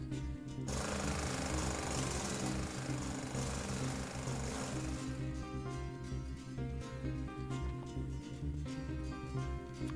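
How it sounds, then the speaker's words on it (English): Harsh, continuous jackhammer clatter in the Factorio video game runs steadily and loud throughout, with a buzzing mechanical drone and a slight change in texture partway through. "Get ready for some annoying jackhammer sounds."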